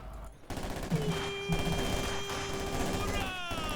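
MG42 machine gun fire in a World War II video game match, bursts of rapid gunfire set among faint battle sounds and tonal game effects, with commentary voices over it.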